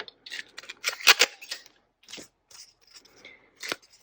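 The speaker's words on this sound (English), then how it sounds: "I'll use my scissors and very carefully just kind of go along this edge part here and cut off any extra." Scissors snip through paper in a few short, crisp cuts, close by, with quiet pauses between strokes.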